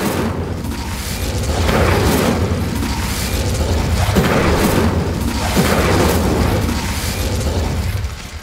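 Incendio fire spells cast repeatedly in Hogwarts Legacy, loud booming, crackling fire blasts that swell and fade in several waves over a constant rumbling roar, with no voices.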